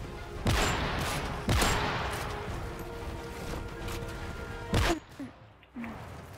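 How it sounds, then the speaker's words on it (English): AS50 sniper rifle fire in Modern Warfare 3, with three loud, sharp game gunshots spaced about a second or more apart over continuous game noise, plus a few fainter thuds near the end. "Whoever's using that AS50 gun."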